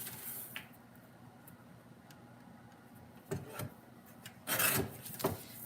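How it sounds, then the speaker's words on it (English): Scissors or a trimmer slicing through white cardstock for a handmade card, quiet scraping and rubbing with a few short sharp snips and a louder rasping cut near the end. "So I just cut a piece of white cardstock"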